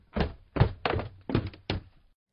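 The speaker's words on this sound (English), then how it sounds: "The mother shut the door." Five dull, heavy thunks land in an even rhythm about a third of a second apart, each a short, close, solid knock like a wooden door being shut, with silence between and no voices.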